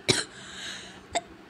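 A woman coughs in a home kitchen while making thalipeeth dough, suffering from a cough that has lasted for days. One sharp, close cough is followed about a second later by a second, shorter cough.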